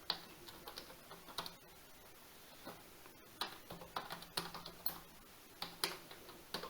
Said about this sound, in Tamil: ஸோ அதில் என்ன இருக்கோ அதை அப்படியே இங்கே டைப் பண்ணிடுங்க.